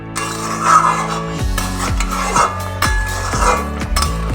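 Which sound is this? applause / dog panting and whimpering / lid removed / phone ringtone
lid removed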